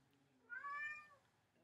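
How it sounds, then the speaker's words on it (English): A cat gives a single soft meow, rising then falling, heard close up in a quiet room. "That was my cat."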